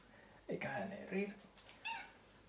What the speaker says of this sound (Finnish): Kissa.